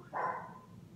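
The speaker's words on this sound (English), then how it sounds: "You have to excuse my dog." A pet dog gives one short bark, fairly close and moderately loud, then trails off into quiet room noise.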